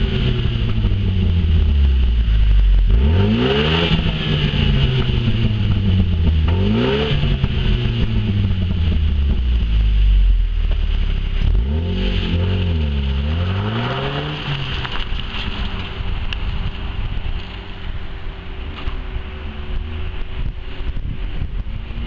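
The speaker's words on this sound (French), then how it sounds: "Opel a particulièrement travaillé la sonorité du moteur de l'Astra." An Opel Astra OPC's 280-horsepower engine revs loudly three or four times, each sharp rise in pitch followed by a drop, then settles into a steady idle amid wind noise.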